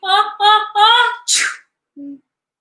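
A voice winds up with three drawn-out vocal breaths, then a sharp, noisy sneeze burst, followed by a short low hum; a voice imitates the sneeze.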